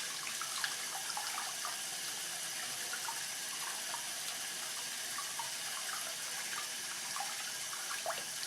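Warm water runs steadily from a tap as etching cream is rinsed off a glass mirror, a constant even splashing flow with faint drips and no voices.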